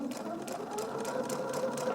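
A sewing machine stitches quilt triangles in a fast, even run of needle strokes, close and steady, with faint room tone around it.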